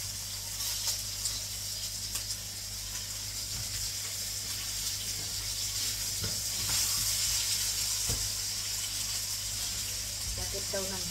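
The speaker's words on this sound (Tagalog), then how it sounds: "Ayan na ang aking carrot. Naprito na siya." Carrots fry in a pan with a continuous crackling sizzle, close and steady throughout, while a voice talks faintly at times in the background.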